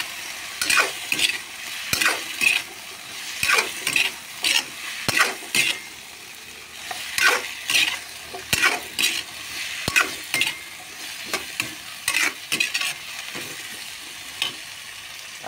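Tulingan fish stirred in a hot pan with vegetables gives a steady sizzle, broken by repeated sharp scrapes and clinks of a utensil against the pan at an irregular rhythm.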